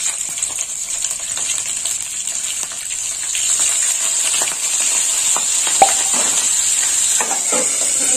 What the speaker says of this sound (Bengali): এবার ফোড়ন দেবো। ফোড়ন নিয়েছি 2টো তেজপাতা, 4টে কাঁচা লঙ্কা